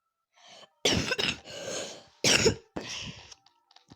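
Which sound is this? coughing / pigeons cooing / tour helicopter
coughing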